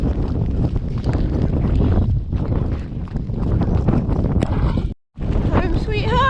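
Wind buffets the microphone outdoors in wet, blustery weather while riding a horse in Wales, a steady loud roar broken by one brief drop near the end.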